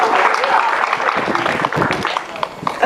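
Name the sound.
audience applause for God at a church service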